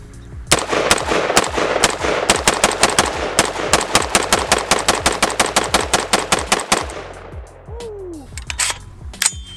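Rapid semi-automatic fire from a Palmetto State Armory KS47 Gen 2 rifle fed by a Magpul magazine, about thirty loud sharp shots in a steady fast rhythm, ending with a few seconds of quieter outdoor ambience.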